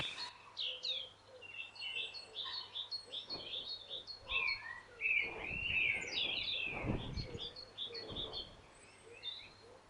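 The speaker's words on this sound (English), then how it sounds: "The only residents of the rock these days are the crows in the wall." Crows around the old wall of Roche Rock give faint, scattered calls and chatter at a distance, with soft outdoor rustling between the calls.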